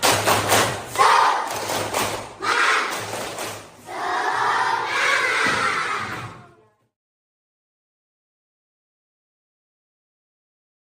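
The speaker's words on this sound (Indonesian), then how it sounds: "kita tepuk semangat dulu." A primary school class doing a spirit clap in an Islamic education lesson, a group of children clapping and chanting in rhythmic bursts for about six seconds, fairly loud and close, ending abruptly in silence.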